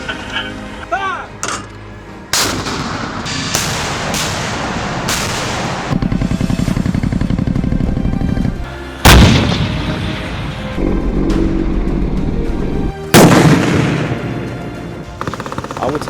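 Military artillery guns fire several booming rounds at a training range, loud heavy blasts spaced a few seconds apart with rumbling echoes between them, while a voice shouts commands.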